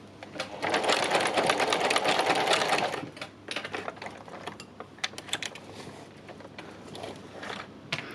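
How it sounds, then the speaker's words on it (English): A sewing machine fitted with an embroidery foot stitches free machine embroidery, running in a dense steady whir for about three seconds, then continuing in shorter, uneven bursts of quick needle clatter, close up and without speech. "free machine embroidery, which is what I'm doing here"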